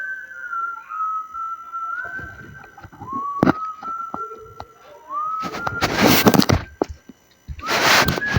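A custom whistle sound effect added to Minecraft plays as several rising, gliding whistle tones, close and fairly loud, mixed with short thumps and two bursts of broadband noise, with no talking.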